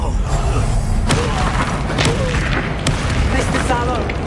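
Confringo blasting spell detonating in Hogwarts Legacy on PS5, a deep booming burst over constant game combat noise and shouting voices, with sharp thuds breaking through the dense low rumble.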